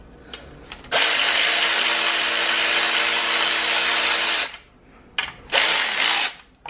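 10 mm socket ratchet loosening valve cover bolts, a long close, loud run of fast clicking followed by a short pause and a second brief burst.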